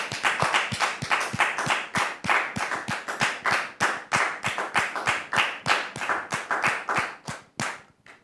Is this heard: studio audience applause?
yes